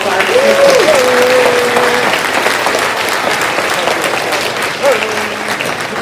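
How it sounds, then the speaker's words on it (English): Sustained audience applause fills a school's fifth-grade winter holiday program, a dense, steady clatter of many hands clapping close by, with a couple of brief whistles rising above it. "We can give all of them a nice big round of applause."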